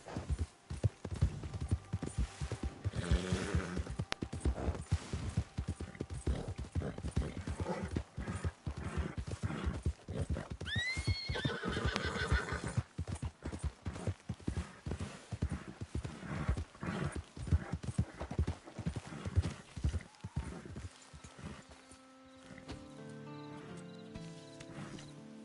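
A horse gallops in Red Dead Redemption 2. Rapid, continuous hoofbeats and a brief whinny play over game background sound, and they give way near the end to quieter ambient music.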